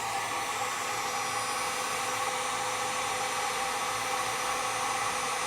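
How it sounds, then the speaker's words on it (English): A heat gun shrinks butt connectors on trailer wiring, a steady, even blowing roar like a hair dryer that holds at constant loudness throughout, close by with no talking. "Now we'll use our heat gun to shrink down our butt connectors."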